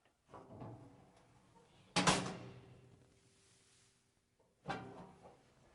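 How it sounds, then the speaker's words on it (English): Metal slick door on a portable manual cattle sorting tub is pushed along, giving several clanking, rattling impacts with one sharp metallic bang and a short ringing tone, fairly quiet and spaced apart. "so I got a handle here for my slick door"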